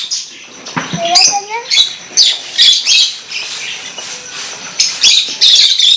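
Many small pet birds in a home aviary, newly bought young ones among them, chirp and squawk close by in bright overlapping bursts, fairly loud throughout.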